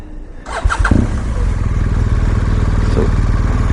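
A motorcycle engine starts with a quick crank and catches into a steady, close idle rumble that runs on evenly as the bike is rolled around a store lot in cool weather.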